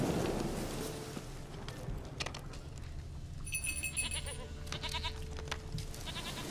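Goat bleats from The Witcher 3: Wild Hunt, a few short wavering calls over a steady game ambience background, fairly close and moderately loud, with no talking.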